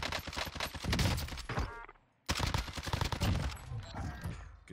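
Rapid gunfire rattles in Call of Duty Warzone, loud, dense bursts of shots that drop out briefly and then resume.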